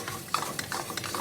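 Parmesan cream sauce made with shrimp heads and shells cooks down in a pan, giving a soft bubbling sizzle with occasional stirring scrapes, close up and with no talk.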